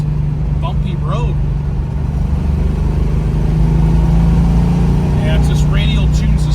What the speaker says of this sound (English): Feels nice going down the road straight. A lot of power in the motor.